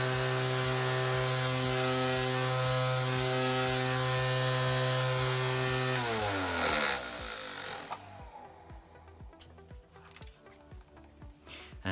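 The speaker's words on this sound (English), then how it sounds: "the Ryobi Lithium 1 Plus 18 volt strimmer" A Ryobi One+ 18V lithium battery strimmer running, a loud steady high-pitched motor whine that winds down after about six seconds into a fading spin with faint ticking and rattling.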